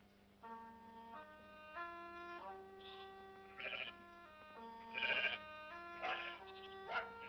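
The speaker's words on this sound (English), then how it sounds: "sheep are returning to this English field" Sheep bleat repeatedly in an English field, a series of drawn-out, wavering calls from several animals at moderate distance, some overlapping, with quiet stretches between.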